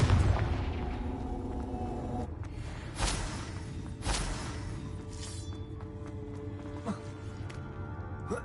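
Blasting-spell explosions go off in the game Hogwarts Legacy: several sharp booms with cracking bursts, spaced about a second apart over a rumbling background, with scattered clinks and debris.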